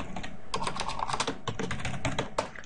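Fingers type quickly on a computer keyboard, a dense stream of close, crisp key clicks with no voices.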